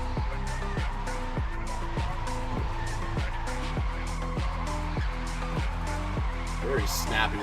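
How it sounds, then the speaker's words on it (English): A drift car sliding through a qualifying run at Power Park, engine revving in rapid repeated pulses with tyre squeal, loud and close under a commentator's voice. "Very confident that he's going to be able to catch the car as it's sliding into position"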